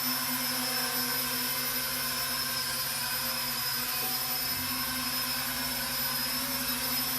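A Syma X9 FlyCar quadcopter hovers low with a constant, dense, high-pitched buzz of small motors and propellers, loud and close and unchanging throughout, with no talking.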